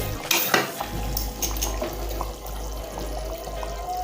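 Boiled okra being added to a pot of Ghanaian okra soup, a wet splash and clatter against the pot, then a low steady bubbling and faint utensil clinks, close and without speech.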